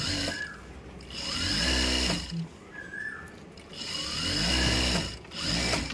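Sewing machine stitching the hem of jeans, running in two bursts of rapid mechanical chatter with a pause and handling noise between them, close and fairly quiet.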